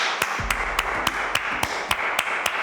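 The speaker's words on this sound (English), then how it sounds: "give yourselves 10 claps right now" A group claps their hands together ten times in a steady, even rhythm at the close of a lower-body strength workout, each clap sharp and distinct over a faint room background.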